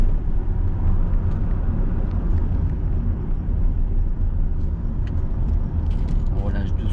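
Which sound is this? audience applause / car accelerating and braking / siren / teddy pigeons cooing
car accelerating and braking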